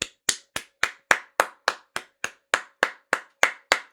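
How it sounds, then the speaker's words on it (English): A single person claps in slow, evenly spaced sharp hand claps, about thirteen of them, close and alone with no voices. "I think that deserves another round of applause for me"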